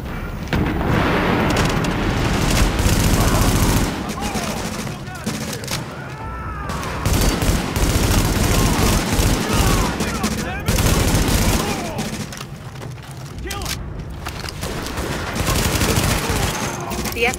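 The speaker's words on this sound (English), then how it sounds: "The escort party's taking heavy fire from the roof." Heavy gunfire from a firefight in Tom Clancy's The Division on PC, with sustained bursts of automatic shots and booming impacts filling the whole stretch, loud and dense, as a voice talks over the battle.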